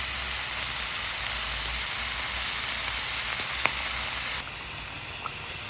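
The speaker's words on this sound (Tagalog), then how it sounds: "Igigisa po natin ito sa patis." Onion, garlic and ginger sautéing with fish sauce in a pan for arroz caldo, a steady close hiss of sizzling that drops slightly in level near the end, with no voices.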